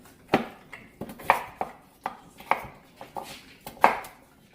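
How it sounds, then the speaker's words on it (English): Potatoes being chopped for a vegetable beef soup, a run of about eight sharp knife strikes on a cutting board, irregularly spaced and close up, with no talking. "And then you just give it a crazy chop"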